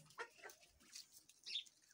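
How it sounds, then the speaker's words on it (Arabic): Rooftop poultry flock at feeding time, giving soft, scattered clucks and short calls, with a brief wing flutter, faint and fairly near in a quiet setting. "ده الطيور يا جماعة بتاعتنا"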